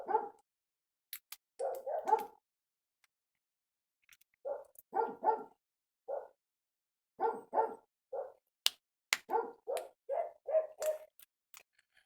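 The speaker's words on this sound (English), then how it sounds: "the dog's gonna start barking and stuff" A dog barks in short bursts of two or three, with pauses between them, somewhat distant and moderately loud in a quiet garage setting with no talking.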